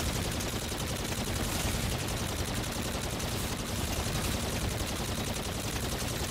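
Rapid, sustained gunfire from Call of Duty Zombies in the Beast from Beyond map, a dense continuous stream of automatic shots with no reload pauses, loud and unbroken for several seconds.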